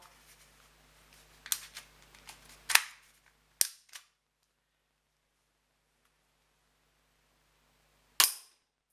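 A spring airsoft pistol fires in a few sharp, close cap-like snaps, with one shot near the start and a final isolated crack after a long silence.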